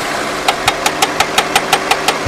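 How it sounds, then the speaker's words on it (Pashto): A car engine idles with a steady, rhythmic knock, about five or six sharp raps per second. It is close and clear, with no talking over it. "اورې د انجن ټکار اورې"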